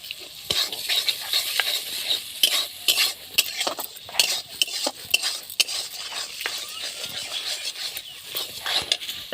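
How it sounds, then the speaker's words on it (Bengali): Tomato masala for ghugni frying in a pan while being stirred, a constant sizzle under repeated scraping strokes of a spatula against the pan, close and moderately loud, without voices. "এবার এটাকে আমি আরও 1 মিনিট সুন্দর করে ভাজা করে নেব, টমেটোটা যতক্ষণ গলবে না ততক্ষণ"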